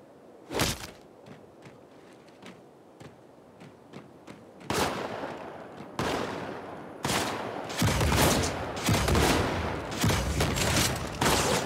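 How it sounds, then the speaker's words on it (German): Gunfire in the video game Halo 2 Anniversary on PC: scattered single shots at first, then dense, loud bursts of rapid fire and booms. "Ich schieße auf den Boden und der Schuss geht irgendwo oben in die Luft."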